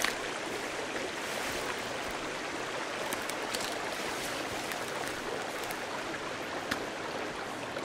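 A river in the video game Sons of the Forest flows with a steady, broad rushing wash of water, fairly soft and continuous, with a few faint ticks on top and no talking.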